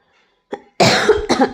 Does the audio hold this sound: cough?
yes